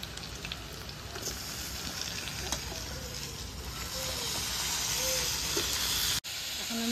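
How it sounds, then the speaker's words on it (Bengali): Desi chicken meat dropped into hot oil over fried garlic, giving a steady, loud hiss and sizzle that builds and holds, with a brief cut near the end. "এখন আমি মাংসটা দিয়ে দেব।"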